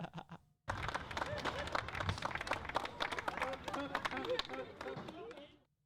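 A burst of clapping from a group starts abruptly and continues steadily, with voices mixed in throughout.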